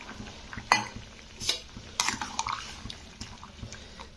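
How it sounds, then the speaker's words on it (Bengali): Vegetable curry stirred in a pot after water is added, with a few separate scraping, sloshing strokes of a spoon against the pan over a soft background. "জলটা দিয়ে একটু নাড়াচাড়া করে দিতে হবে।"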